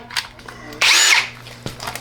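A power drill driving a screw while fitting a widebody kit to a Nissan Z31 300ZX, one loud whir lasting about half a second mid-clip, with faint tool handling clicks before and after.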